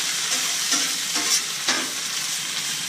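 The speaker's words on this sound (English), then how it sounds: "Now we just stir this around a little bit and let it reduce down." Mustard greens stirred in a hot pan, a steady frying sizzle with several soft scraping strokes of the spoon, close and alone with no voices.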